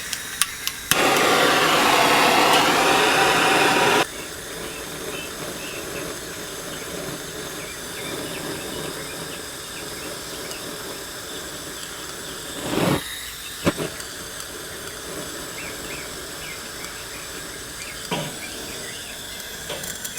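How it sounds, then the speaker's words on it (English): A propane torch lights wood pellets packed in an A-MAZE-N tube smoker, giving a loud, steady roaring hiss for a few seconds before it cuts off, followed by quiet background with a couple of brief clunks. "we're going to light it up with a propane torch and get it going"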